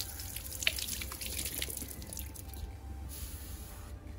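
A Samsung T7 Shield SSD, an IP65-rated rugged portable drive, rinsed under a running tap to clear sand, giving a continuous close splashing stream of water that quiets briefly near the end.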